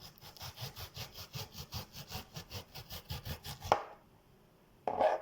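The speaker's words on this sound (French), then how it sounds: "je sais pas couper un oignon" A knife chops through an onion on a board, cutting it into slices with a quick, steady run of about twenty close, crisp strokes that stops abruptly, followed by near silence and a short rustle at the end.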